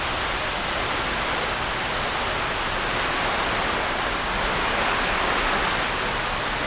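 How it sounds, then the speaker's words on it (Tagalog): Strong typhoon wind with heavy rain during Typhoon Paeng, a loud, continuous broadband roar with no pauses and no voices. "Napakalakas ng hangin."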